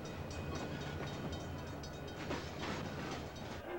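Freight railroad cars, many loaded with perishable goods, rumble and clatter in a rail yard, a steady rolling noise with faint metallic squeals and clicks, no voices.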